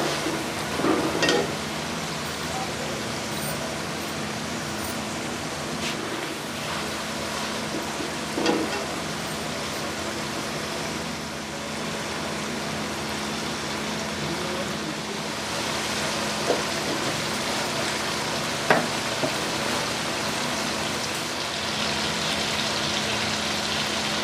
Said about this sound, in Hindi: टमाटरों को अच्छे तरीके से फ्राई करेंगे।